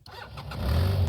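A 2015 BMW F800 GS Adventure motorcycle engine catching and starting, rising quickly into a low, steady idle rumble, close and loud within about a second.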